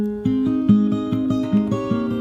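Fingerstyle acoustic guitar playing the chorus of a song: a steady, even pattern of plucked notes over ringing bass tones, close and clear with no voices.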